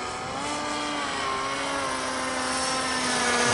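A HobbyKing SuperG RC autogyro in flight, its steady motor and rotor drone holding a constant tone with slowly shifting pitch throughout, moderately loud and continuous with no voices.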